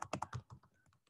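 Quick bursts of key presses on a computer keyboard while a chat message is typed, a fast irregular clatter of about a dozen soft clicks, close and quiet.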